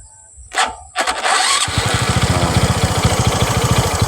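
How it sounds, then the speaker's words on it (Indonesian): A motorcycle with a freshly replaced battery cranks over with two short starter bursts, then catches and settles into a steady, close, chugging idle. "motor ini kita langsung bisa starter"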